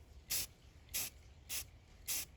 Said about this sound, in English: A light spray of the lighter colors on first.